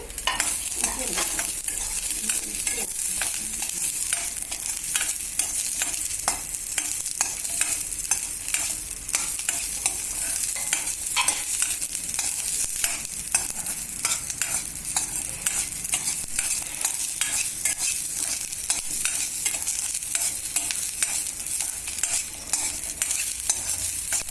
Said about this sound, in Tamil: நம்ம இப்படி வதக்குறோம் வெண்டைக்காய் உதண்டி வதக்கிட்டு